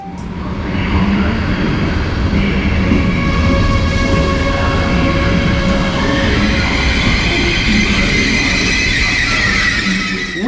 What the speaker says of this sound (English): now we can see my next train arriving